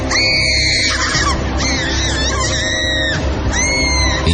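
Shrill, wavering screams ring out in loud bursts, each cry rising and falling with short gaps between them, as a horror-story sound effect.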